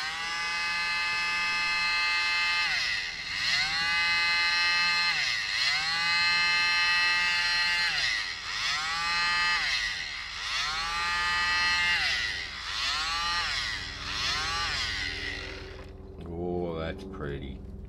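A mini blower drives air over CA resin art in a close, loud, whining hum that rises and dips in repeated waves, then cuts out near the end as someone starts speaking.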